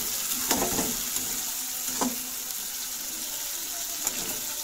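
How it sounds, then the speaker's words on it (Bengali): Ground spices for a rohu fish curry fry in oil in a pan, a soft steady sizzle broken by a few scraping stirs of a spoon. "চলো প্রথমে একটু নাড়াচাড়া করে নেব।"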